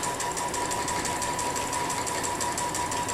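A sewing machine stitches steadily during free-motion quilting of interlocking curves, a continuous close, even mechanical chatter with a constant hum and no pauses.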